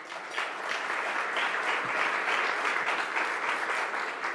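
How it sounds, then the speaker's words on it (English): An audience at a Canadian Club luncheon gives sustained, even applause, a dense steady patter of many hands at moderate volume, with no speech over it. "I'd ask the room to give you a round of applause"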